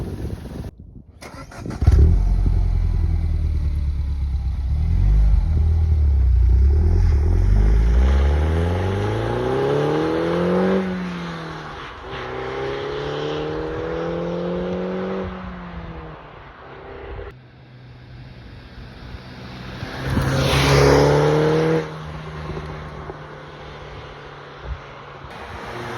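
A 2013 Mini Cooper S R56 engine revs up and drops back, then pulls away while driving, with rising and falling engine tones, a loud close start and a second rev burst near the end.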